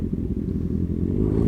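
A motorcycle engine rumbles nearby, its low buzzing growl building slightly as it passes.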